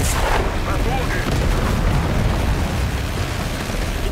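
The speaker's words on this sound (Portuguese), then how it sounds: "Mandando míssil! Na torre!" A missile strikes a tower in the video game Call of Duty: Black Ops 6, producing a loud, continuous explosive roar with heavy low rumble and crackling debris throughout.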